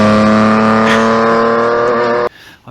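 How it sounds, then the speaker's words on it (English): A 1976 Reliant Scimitar with a tuned Vauxhall Omega 3-litre V6, bored throttle bodies, tubular exhaust manifolds and an aftermarket ECU holds a loud steady revving drone close by, then cuts off abruptly near the end. "It has a Vauxhall Omega 3-litre V6 engine."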